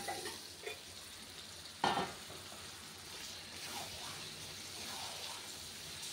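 Meat goes into a pan of well-fried spice paste for a home-cooked chicken dish, with a bump of stirring, then a low steady sizzle of frying and occasional scraping.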